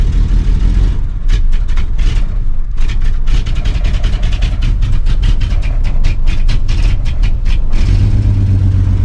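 Toyota Land Cruiser engine running rough under throttle and nearly stalling, a loud close mechanical drone with uneven surges and sputters that sag toward dying before settling into a low idle.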